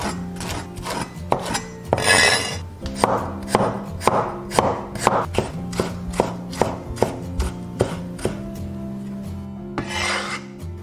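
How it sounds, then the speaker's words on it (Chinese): A knife chops scallions and ginger on a cutting board in a home kitchen, with a rapid run of crisp close knocks and a couple of scraping sweeps across the board. "准备一些葱段跟姜丝备用。"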